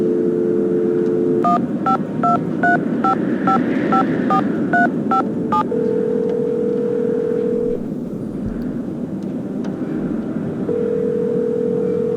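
A run of about a dozen evenly spaced keypad tones is dialed on a telephone in the Nancy Drew game Treasure in the Royal Tower, framed by a steady dial tone and then a long ringback tone over a constant low background hum.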